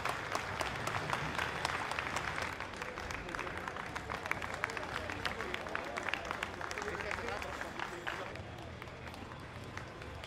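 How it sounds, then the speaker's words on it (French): Street crowd applauding as a funeral procession passes, steady dense clapping with cheering and crowd murmur throughout, fairly loud and continuous. "Le cortège qui applaudit dans les rues."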